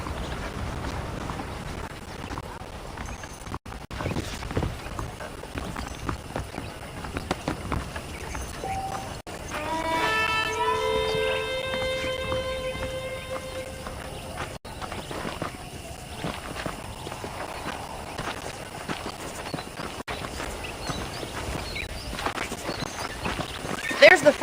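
Horse hooves clip-clop at a walking pace in a Red Dead Redemption Western town, steady and moderately near, with a rider's voice talking over them and a brief musical chime partway through.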